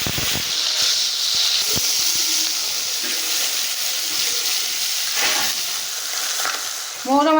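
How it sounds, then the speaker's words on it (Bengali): Fish frying in hot mustard oil, a loud steady close sizzle with occasional sharp pops and scraping stirs, no talk. "তেলটা গরম হয়ে গেছে, এবার আমি মাছগুলো ভেজে নেব।"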